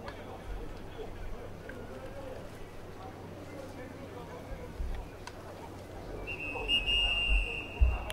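A referee's whistle at an American football game between Osaka Gas Scunks and Lead Effort Eales: a single sustained shrill blast near the end, over steady crowd murmur and background talk.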